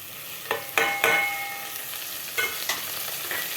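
Tomatoes fry in a hot pan for a sambar and get stirred in a few distinct scrapes over a soft, steady sizzle, with no talking.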